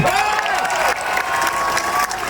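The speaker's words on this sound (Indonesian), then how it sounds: "tepuk tangan kawan-kawan." A protest crowd against a national park plan in South Kalimantan claps and cheers together, a loud, continuous mass of clapping close by with voices shouting and calling out over it.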